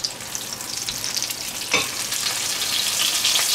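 A schnitzel fries in a pan just after being flipped, giving a steady close sizzle with a brief louder hiss burst as it turns, then continuous crackling frying on lowered heat.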